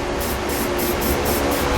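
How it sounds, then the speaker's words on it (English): A spray paint can sprays bare metal on a trailer hitch install on a 2017 Subaru Crosstrek, producing a steady close hiss of aerosol with faint rhythmic pulsing. "take some spray paint and paint that bare metal"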